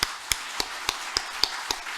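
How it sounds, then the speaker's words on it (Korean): A church congregation claps together in a steady, even rhythm, each sharp clap landing in unison about three times a second over a soft background hum. "하나님 앞에 감사 박수 올려드리겠습니다."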